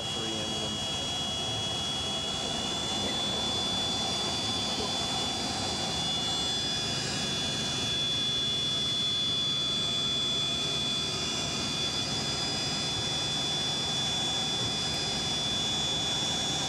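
Loud, continuous roar of a three-engine Yak-42 jet airliner's engines with a steady high whine, running without pause throughout.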